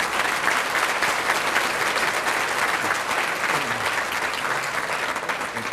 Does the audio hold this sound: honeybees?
no